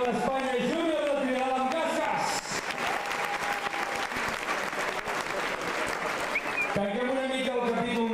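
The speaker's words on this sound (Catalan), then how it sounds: "Molt bé, un fort aplaudiment" Audience applause at a trial motorcycling event, a dense wash of clapping that swells and fades, with a voice talking before and after.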